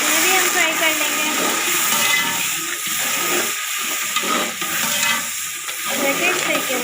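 Tomatoes, green chilies and spices sizzle and fry in a pan for potato rice, a loud continuous hiss with occasional stirring scrapes and no voices.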